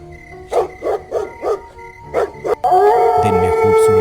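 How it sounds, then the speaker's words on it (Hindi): A dog barks several times in a loose rhythm, then a howling, whining dog voice rises over it. Fairly clear rather than far off. "दूर कहीं कुत्तों के भौंकने की आवाजें उस खामोशी को और भी डरावना बना रही थी"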